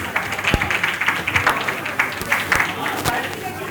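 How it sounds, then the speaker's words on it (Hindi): Audience applause at a hypertension lecture held in a hotel hall, steady scattered clapping throughout with a few sharper individual claps, moderately loud and continuous. "At least a clap before we conclude, please."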